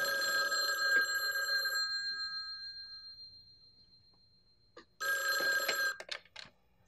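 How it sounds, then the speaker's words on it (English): A telephone bell rings loudly indoors in a sitcom home, one long ring that fades away, then a pause before a second ring starts and breaks off, with a few small knocks after it and no speech. "Answer the phone the way I taught you, okay?"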